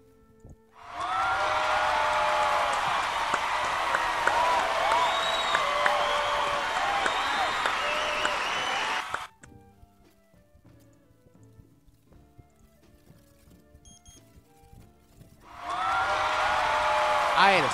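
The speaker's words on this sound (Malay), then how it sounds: "Kita beri tepukan untuk Naila guys." Loud, sustained applause sound effect fills several seconds, stops abruptly into near quiet, then a second burst of clapping begins, in a Bully video game session.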